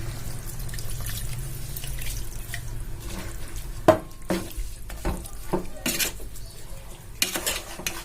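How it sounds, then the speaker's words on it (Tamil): Water poured into a pot of chicken curry with coriander and mint, dripping and splashing amid clinks and scrapes of a metal spoon against the pot. "தேவையான அளவு தண்ணி ஆட் பண்ணிக்கிறோம்."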